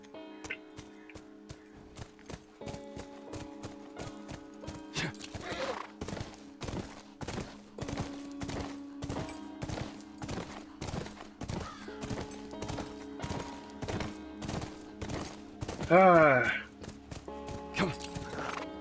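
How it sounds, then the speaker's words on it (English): Horse hooves clip-clop in a steady, rapid rhythm throughout in The Last of Us Remastered, moderately loud, with a brief neigh near the end and no talk. "We have a horse now!"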